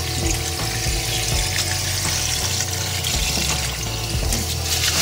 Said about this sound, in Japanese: 余分な血というかそういうのを全部ちょっと除去していって洗っていきます